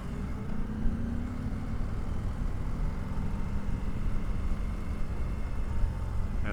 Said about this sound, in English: Very smooth motor. Very, very smooth motor.